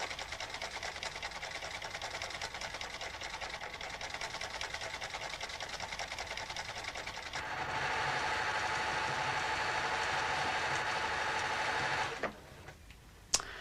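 A mechanical cam-driven sewing machine stitches in a steady, fast whirring rhythm that shifts to a denser, louder pattern about halfway through, then winds down and stops near the end.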